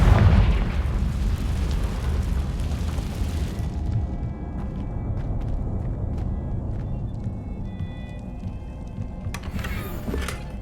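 A Confringo fire spell in Hogwarts Legacy erupts in a loud, broad blast that rumbles on for a few seconds and fades into a low crackling tail, with a second burst near the end.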